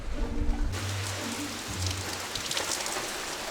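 Rain pouring onto a boat at sea, a dense loud hiss with heavier drumming bursts and low rumbling underneath, no voices.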